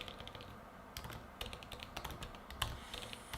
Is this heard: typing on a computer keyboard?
yes